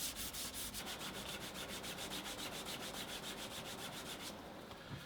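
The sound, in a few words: burnishing edges of a leather long wallet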